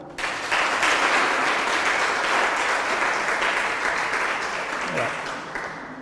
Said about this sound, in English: They still deserve a clap.